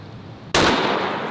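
A very powerful rifle fires a single sudden, loud blast after a quiet moment, followed by a long, booming, reverberant tail.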